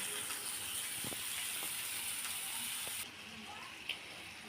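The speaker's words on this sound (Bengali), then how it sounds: "চিংড়ি মাছটা আমি এখন দিয়ে দেব দিয়ে ভালো করে কষিয়ে নেব" Prawns being sautéed in a pan for a Bengali banana-flower dish; a soft, steady frying hiss sounds close by, then drops off partway through, leaving a quiet background with one brief clink.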